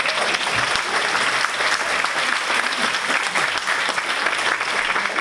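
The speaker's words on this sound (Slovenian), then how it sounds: "En aplavz za gospoda!" An indoor audience at a Mother's Day concert in a cultural hall in Domžale, Slovenia, gives warm, continuous applause: many pairs of hands clapping steadily and fairly close, with no speech.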